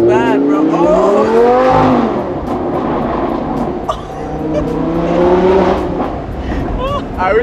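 A Lamborghini pulls away fast, its engine note rising and falling in long sweeping revs, with a possible tire squeal, as excited voices talk loudly over it.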